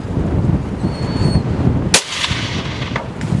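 A single loud rifle shot cracks out once during a hunt, sharp and close, then its echo rolls away under steady wind and outdoor background noise.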